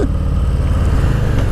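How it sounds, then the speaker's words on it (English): A Harley-Davidson Street Bob motorcycle pulls away under acceleration, its deep, loud exhaust rumble close by and throbbing steadily for a brief moment. "Exhaust note's a little better on this one than the Lowrider S that I just got off of."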